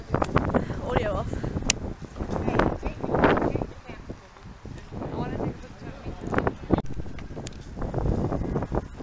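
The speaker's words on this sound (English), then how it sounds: "It's very windy, so I may have to take the" Strong wind buffets the microphone outdoors with a constant low rumble and gusty surges, while people talk close by.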